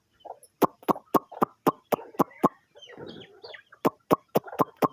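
Country chickens and a rooster clucking close by in quick, sharp, evenly spaced bursts, with a softer stretch of mixed squawks and chatter in the middle.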